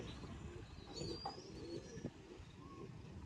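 Pigeons kept in a rooftop setup with their young give soft, low cooing calls against a steady outdoor background hum, with a few faint chirps above and no talking.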